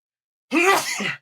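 A single sneeze bursts out close by after a moment of silence, a sharp voiced blast that trails off quickly.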